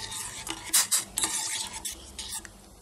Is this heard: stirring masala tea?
yes